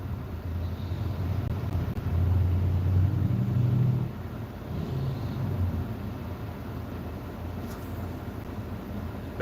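A truck rolls past on the street outside, a low rumbling engine swelling briefly and fading, moderately near, with no talk.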